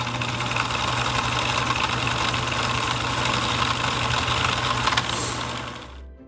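A sewing machine stitches a fabric gift bag, running at a steady motorized whir for about five seconds, with a brief reverse to lock the seam before it stops.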